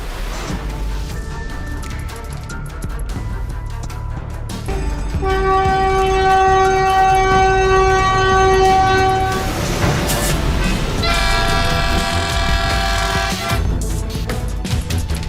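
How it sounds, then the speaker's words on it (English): A train thunders past on railway tracks toward a dump truck stuck on the crossing, with heavy rumbling, its loud horn blaring in two long blasts over the roar. "Immediately, a train came rushing toward it and slammed into the rear of the truck"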